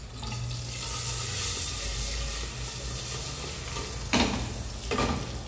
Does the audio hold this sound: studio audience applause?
no